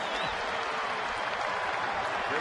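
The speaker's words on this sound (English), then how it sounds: "Great reaction from the crowd" A baseball stadium crowd at Philadelphia applauding and cheering as a pitcher leaves the mound, a dense continuous wash of clapping at steady loudness throughout.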